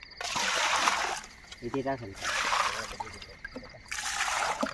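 Water gushes and splashes from a running motor pump on a farm, in loud bursts broken by pauses, with people talking nearby between the surges.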